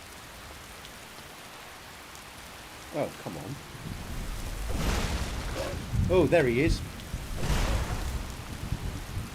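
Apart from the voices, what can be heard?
heavy rain and thunder in the video game Skyrim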